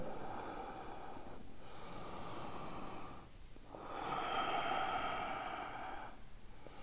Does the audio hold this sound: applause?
no